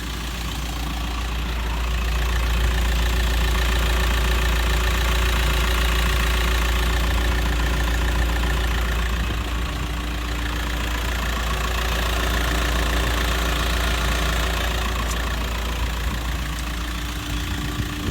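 A VW T5 van engine idles steadily and loudly throughout, a constant low rumble with a faint mechanical knock and no voices.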